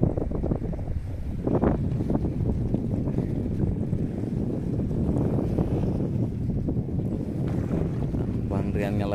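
Strong east wind blows over open sea from a fishing boat, a loud, constant rushing roar buffeting the microphone, with the boat's drone and water beneath and a voice talking through it.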